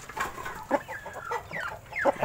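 A Shamo chicken clucks several times nearby in short, choppy bursts, with a few higher squawky calls between them.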